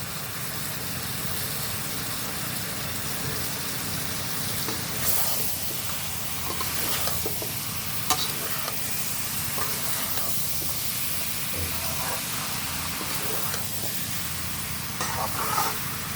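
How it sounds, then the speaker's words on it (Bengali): Boiled potatoes and two whole garlic bulbs sautéed in a pan, a loud, constant hissing sizzle with a few faint knocks of stirring scattered through. "আলু সিদ্ধটা এখানে দিলাম। এগুলো ভালোভাবে কষিয়ে নেব।"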